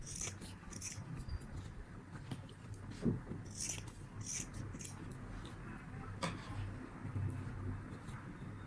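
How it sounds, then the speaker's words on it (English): Scissors cut a small square of denim fabric up close, with quiet crisp snips and rubbing of the sturdy cloth over a soft background. "grab a small piece of denim fabric or any other sturdy fabric you have on hand. Cut it into a small square shape."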